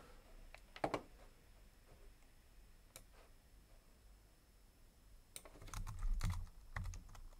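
Computer keyboard typing comes in scattered bursts of quiet clicks, sparse at first and denser near the end, fairly faint and with no talk.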